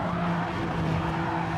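A race car spinning out on the Suzuka circuit in Gran Turismo 7, a continuous tire skid and squeal over a droning engine, steady and fairly loud throughout, no speech.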